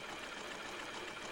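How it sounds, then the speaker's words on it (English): A Janome Memory Craft 7000 sewing machine stitches a seam with a continuous, even, fairly quiet whirring hum over a brief moment, with no talk. "By setting the stitch width to 3 and sewing along so that the right-hand stitch falls over the edge of the fabric, you can seam and overcast at the same time."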